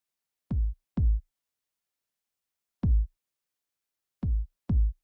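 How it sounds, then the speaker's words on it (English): A second kick drum sample from a music production project called "Real Groove" plays alone: five short, deep, punchy thumps in an uneven pattern with gaps of silence between them. "I also added a second kick that this one sounds like this."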